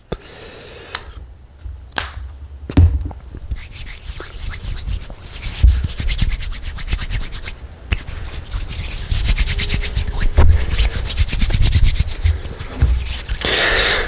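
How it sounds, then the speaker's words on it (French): Soft, steady rubbing and swishing close by as cream is rubbed between hands, a continuous brushing texture with a few sharper clicks near the start. "je me mets juste un tout petit peu de la crème sur les mains"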